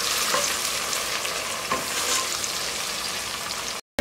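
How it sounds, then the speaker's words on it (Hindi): Onions frying in ghee in a pan for a mutton dish, a continuous loud close sizzle with occasional stirring scrapes, cut by a brief silence just before the end. "इसके बाद इसमें प्याज शामिल करें और उसको गोल्डन ब्राउन होने तक पका लें।"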